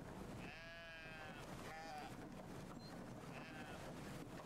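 Sheep bleat in the video game Brothers: A Tale of Two Sons, wavering calls rising twice over a steady bed of wind and ambient game noise, fairly close and moderately loud.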